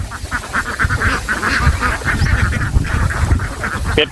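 A flock of large egg-laying ducks quacks continuously and loudly at close range while being fed on a rural farm, a dense overlapping chorus of calls.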